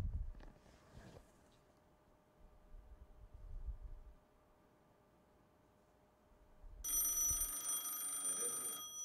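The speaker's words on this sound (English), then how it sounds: "that's ringing the princess phone." A retro princess telephone on a VoIP line rings for a couple of seconds near the end, bright and clattering, after a stretch of quiet room hiss and faint low rumbles.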